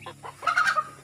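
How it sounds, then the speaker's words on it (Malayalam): A pet rooster kept alone gives a short, close, loud vocal call, a few rising squawky notes building to a brighter cry, with no talk. "ഭയങ്കര കൂവലാണ്"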